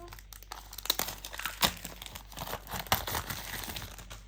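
A tarot card deck box has its packaging torn and unwrapped up close, with crinkling plastic, sharp tearing bursts and uneven rustling for several seconds.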